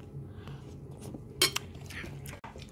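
A spoon clinks against a bowl in a quiet kitchen: one bright, sharp strike near the middle, surrounded by faint scraping and soft low background hum.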